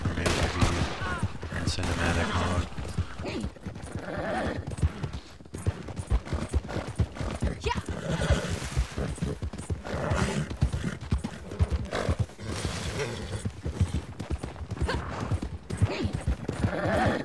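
Horse hooves clip-clop at a gallop in the open-world western game Red Dead Redemption 2, a steady rapid beat under busy game audio with bursts of gunfire and occasional talk.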